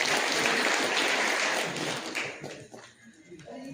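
A crowd at an army unit's anniversary ceremony claps vigorously in dense, steady applause that tapers off over the last second, with faint voices underneath.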